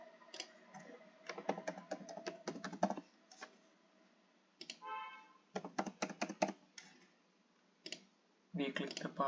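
Keystrokes on a computer keyboard come in quick bursts of clicking with short pauses between, fairly close and moderately loud, with no talking over them.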